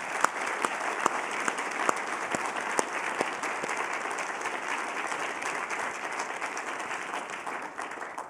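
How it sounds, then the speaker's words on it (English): Steady audience applause at a legal aid symposium, dense and sustained for the whole stretch at moderate volume, with a few sharper individual claps standing out near the start. "Let's give them a round of applause."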